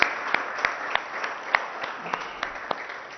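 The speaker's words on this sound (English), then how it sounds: "they deserve a huge round of applause from all of us." Scattered, faint hand claps come from a small audience at an MOU signing ceremony with the Formula E association. About a dozen separate claps, loosely spaced, fade out over a few seconds.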